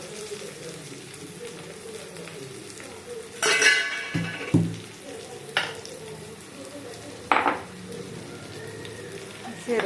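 Village-style vankaya (eggplant) frying in oil in a pan, a constant low sizzle with a few bursts of stirring and metallic clinks of a utensil against the pan, near and clear.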